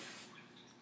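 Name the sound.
spraying a section of hair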